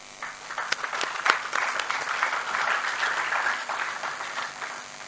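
Steady applause from a seated audience welcoming panelists at a leadership conference opening, many hands clapping in a dense, even wash that swells and holds for several seconds.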